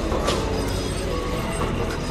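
A zoo toy train at Nehru Zoological Park in Hyderabad rolls past hauling its carriages, a loud close rumble with rattling wheels and faint squeals running steadily for a couple of seconds.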